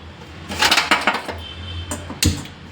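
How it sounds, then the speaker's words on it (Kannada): A frying pan set down on a stovetop for garlic gojju, giving a burst of clattering metal knocks and clanks, then a quieter stretch and one final sharp clank, close and fairly loud. "ಮೊದಲಿಗೆ ಬಾಣಲಿ ಇಟ್ಕೊಂಡು"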